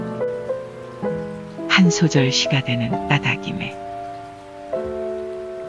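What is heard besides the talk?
rain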